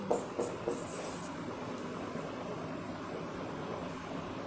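Writing on a board or paper during a science lesson, a few brief scratchy strokes near the start, then quiet steady room hiss.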